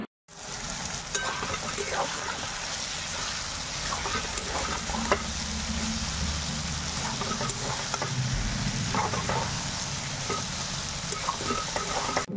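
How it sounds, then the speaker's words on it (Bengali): Potatoes with tomato and onion frying in a pan for a soybean curry, a steady close sizzle with occasional scraping stirs running throughout without talk. "দেখো আলুর মধ্যে টমেটো আর পেঁয়াজ দিয়ে ভেজে নিচ্ছি"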